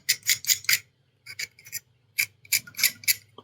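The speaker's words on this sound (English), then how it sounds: "I'm going to kind of scrape this edge and create a little bevel." Hobby blade scraping the edge of a plastic model kit part to form a bevel, a series of short, close, crisp rasping strokes in quick bursts separated by brief pauses.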